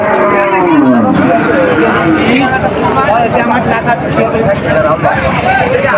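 Cattle at a busy cattle market moo loudly and close, one long low call rising out of steady crowd babble and voices talking throughout.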